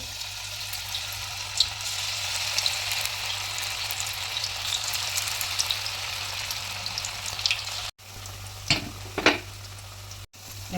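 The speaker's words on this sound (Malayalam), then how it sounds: "അപ്പോൾ നമ്മളൊരു പാൻ വെച്ചിട്ട് അതിൽ ഓയിൽ വെച്ചിട്ട് ചൂടായിട്ടുണ്ട് ഇങ്ങനെ പൊരിച്ചെടുക്കാം" Kalan, a street-stall dish, deep-fries in hot oil in a pan with a loud, steady hiss and sizzle for about ten seconds. A few sharper crackles and spatters come near the end, and no one speaks.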